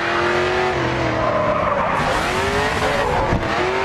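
A race car in the Grid 2 racing game drives loud and close, its engine revving and shifting up through the gears while the tyres squeal steadily through a corner.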